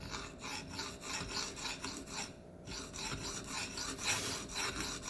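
A knife blade is drawn again and again across a Venev sharpening stone, making a close, steady rasping scrape in quick back-and-forth strokes with a brief pause partway through.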